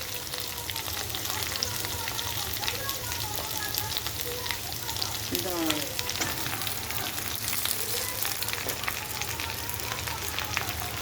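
Malabar spinach frying in a hot pan for a ritual cooking festival, with a steady dense sizzle and occasional stirring clatter, a voice speaking faintly over it partway through.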